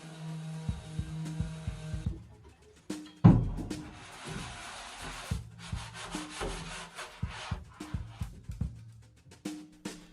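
Hand sanding scrapes across the rusty steel bilge of a vintage yacht in uneven strokes, with one sharp clank early on and busy rubbing that continues to the end.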